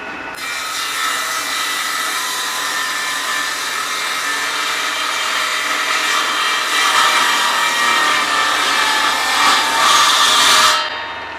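A power saw rips through wood while a small wooden box is being built, a loud, steady broadband whine that holds for about ten seconds before cutting off abruptly at the end.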